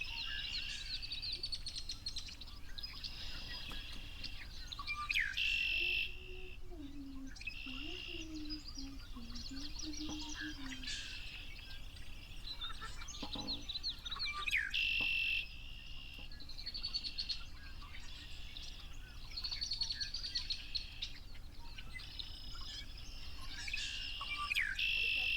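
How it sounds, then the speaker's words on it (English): A red-winged blackbird repeats bright, trilling calls at regular intervals over a steady outdoor bed of insect buzz and chirping crickets, moderately close. "I'm listening to the call of a red-winged blackbird."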